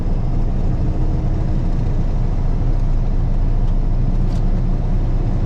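A damaged 1974 Ford truck that has lost a wheel limps along with its engine droning in a steady, loud, continuous low rumble, with no talk.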